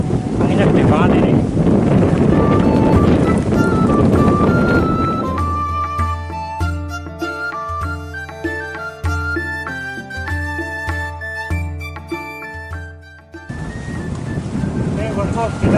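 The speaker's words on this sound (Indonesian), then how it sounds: "Ini soalnya anginnya gede banget nih" Strong wind buffets the microphone beside a daily fish pond in Jakarta, loud and roaring at the start and end, with music playing through the middle section.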